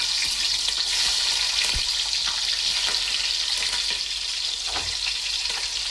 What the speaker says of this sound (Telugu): చక్కగా నూనె కాగా జీలకర్ర వేసేస్తాను